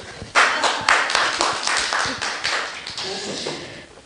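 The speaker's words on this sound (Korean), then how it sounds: "김옥 교수님에게 박수." A small group clapping for a professor at a lecture, close and fairly loud, with individual claps distinct in a quick uneven rhythm that gradually thins out.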